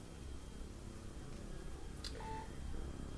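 A mobile phone gives off a short, faint electronic beep tone over quiet room hiss, a single brief alert partway through.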